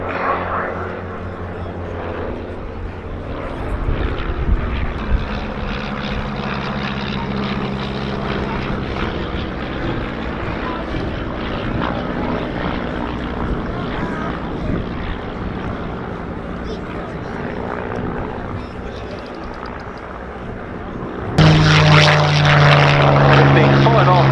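A de Havilland Chipmunk propeller aircraft flies at the RAF Cosford airshow, its engine drone steady and moderately distant beneath continuous public-address commentary, with a louder, harsher tone surging in near the end.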